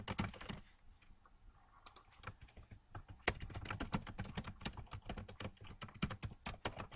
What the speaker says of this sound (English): So then I'm going to type in my own name because I'm paying myself.